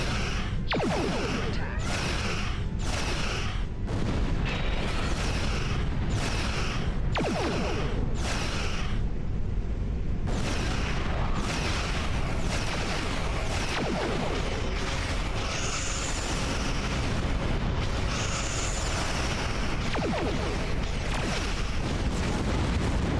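Starship weapons fire and explosions in the game Star Trek Online, a long run of repeated bursts and booms with whooshing sweeps, loud and steady throughout.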